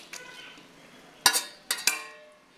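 Hilsa fish heads and bellies go into a pan of browned onions, setting off a faint, steady sizzle. A few sharp metallic clinks of a utensil against the pan punctuate the frying.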